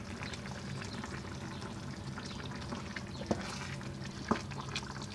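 Hot water boiled in a kettle pours into a pot of potatoes and green beans with a soft, steady liquid gurgle and a couple of sharp clinks, fairly quiet and close, without talking.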